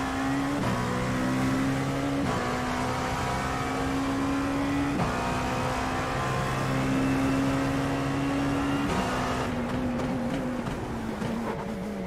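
Dallara P217 prototype race car engine in iRacing at Sebring, a steady droning note that shifts pitch with throttle changes and gear shifts, loud and continuous, with a brief surge of revs.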